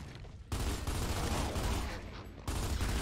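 Gunfire in Gears of War 2 Horde mode comes as loud, dense bursts of rapid shots, breaking off briefly after half a second and again near the end, then resuming.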